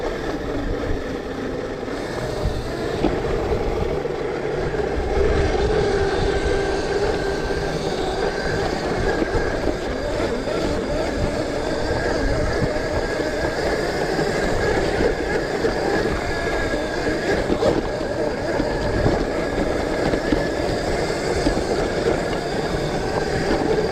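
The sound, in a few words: mini electric motorcycle riding on trails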